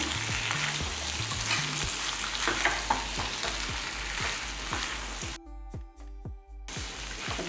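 Potato fry with onion and tomato is stirred in hot oil, giving a busy close sizzle and a run of rhythmic spoon knocks that briefly go quiet near the end.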